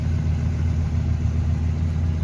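A fully restored 1970 Oldsmobile Cutlass Supreme idling, its engine giving a steady, deep low rumble with an even, unchanging drone heard close up and alone.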